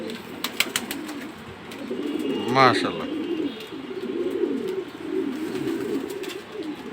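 Racing homer pigeons coo in low, rolling murmurs throughout, joined by one brief sharper call partway through, with someone speaking nearby over them.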